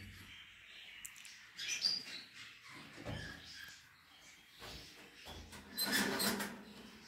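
Goldfinches and canaries in breeding cage boxes give faint, scattered chirps and brief tweets among soft rustling and light cage clatter in a quiet room.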